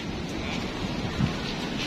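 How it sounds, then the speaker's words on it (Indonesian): Steady rain during a holiday in Bali, a broad even wash of noise with no distinct drops, continuous and fairly loud for the whole two seconds. "Hujan."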